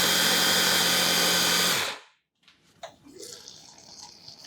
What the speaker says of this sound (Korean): 속은 작게 깍둑 썰어 블렌더에 담아주세요. 이제 곱게 갈아 고물을 만들어줍니다.